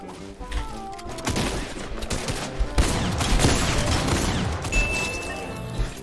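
Gunfire in the Fortnite video game, a dense fusillade of shots and impacts running through the whole stretch with crashing bursts, loud and close over a busy game mix.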